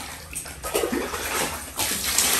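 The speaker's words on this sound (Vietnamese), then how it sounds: "Xả nước đó ra cái bỏ xà bông vô giặt lại cái là sạch rồi đó" Water running and splashing as it drains during hand-rinsing of laundry, a steady close wash of noise with surging bursts, while people talk in Vietnamese nearby.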